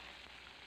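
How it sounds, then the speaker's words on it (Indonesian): Pieces of stingray fish sizzle steadily in hot oil in a pan, a brief, faint, continuous crackle with no talk. "Ini saya pertama-tama saya goreng dulu"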